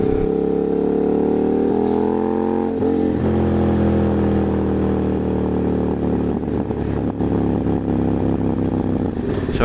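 KTM 990 SMT motorcycle engine running loud and close, a steady throbbing idle with shifting revs and rich low harmonics, holding on without pause throughout.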